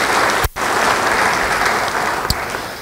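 Church congregation applauding in a steady, dense wash of clapping that fills the whole moment, with one brief dip near the start and no talk over it.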